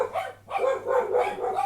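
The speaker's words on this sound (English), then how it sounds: "The dogs." Dogs barking close by in a quick run of sharp, repeated barks with a brief pause near the start.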